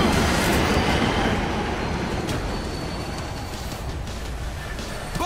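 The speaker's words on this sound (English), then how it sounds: "Stay clear! Train coming through!" A train rolls through in the zombie shooter World War Z, a loud, steady rumble with a continuous roar that holds nearly level across the whole stretch, slowly easing off toward the end.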